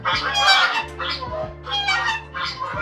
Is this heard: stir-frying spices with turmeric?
no